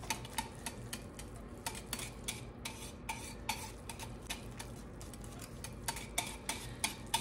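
Hot process activated charcoal soap being stirred in a pot, giving faint, regular clicks and taps of a utensil against the pot over a low background, with no talking.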